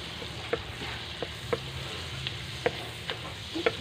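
Garlic sautés in a pan for butter garlic shrimp, with a faint steady sizzle broken by a few sharp clicks of a utensil against the pan, close and quiet.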